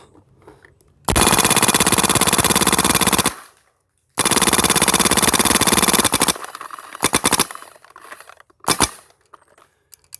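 A MacDev Drone DX paintball marker fires on full auto in two long, loud, rapid bursts separated by a brief pause, then a few shorter bursts trail off toward the end.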